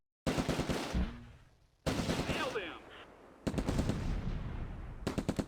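Machine gun fire in the WWII game Close Combat: A Bridge Too Far, with loud rapid bursts of automatic fire separated by short gaps, one ending in a fading echo.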